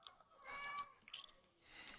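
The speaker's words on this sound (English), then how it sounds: "Hi, cat." A cat meows a couple of times at close range, short tonal cries with some movement and rustle between them, and no talk over it.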